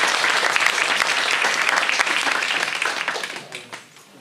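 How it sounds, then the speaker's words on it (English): Audience applause at a charity presentation, a full burst of many people clapping that gradually thins out and fades over a few seconds. "So round of applause."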